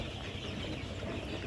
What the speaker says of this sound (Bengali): আপনাদের সামনে যে মুরগিগুলো দেখতে পারতেছেন, এই মুরগিগুলোর বয়স মাত্র 15 দিন